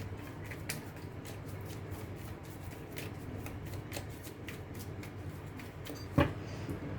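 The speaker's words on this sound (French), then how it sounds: "Je vais prendre quelques cartes des énergies pour voir un petit peu, pour finir ce tirage" Tarot cards are shuffled by hand in a quiet room, giving a run of soft, rapid riffling bursts that are close and gentle, ending with one sharper tap near the end.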